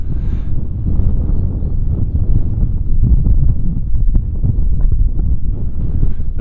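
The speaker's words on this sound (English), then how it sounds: "A lot of wind again." Strong wind blows outdoors on a clear, cold day near a channel, a steady close buffeting roar against the microphone that runs unbroken throughout.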